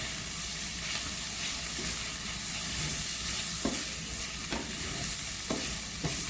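Pumpkin takari, Jamaican style, seasoned with turmeric, is stirred in a frying pot, giving a steady close sizzle with a few sharp spoon scrapes against the pot.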